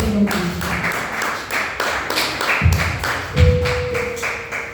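A congregation claps in steady rhythm to acclaim the Lord at a French-language worship service. The regular claps come with low, drum-like thuds and a sustained tone, and the sound stays fairly loud throughout.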